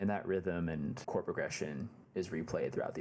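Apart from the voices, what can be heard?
None of the usual background noises is heard.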